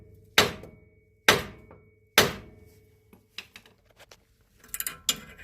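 Three sharp, ringing hammer strikes on a strut spring compressor, evenly spaced, then a scatter of softer clanks and rattles from handling tools, during Nissan Frontier front strut replacement.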